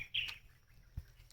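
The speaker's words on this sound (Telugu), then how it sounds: "చూడండి పక్షులు ఎంత బాగా ఇది అరుస్తున్నాయో." Wild birds in a forest: a couple of brief, high chirps early on, fairly faint and distant over quiet background noise, followed by a soft low thump.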